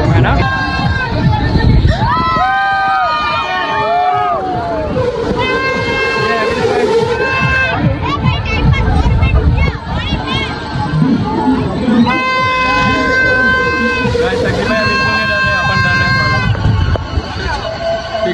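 A busy crowd at the Khinwara mela fair: a loud, constant babble of voices and shouts, with children calling out and high melodic sounds rising over the din, people talking close by throughout.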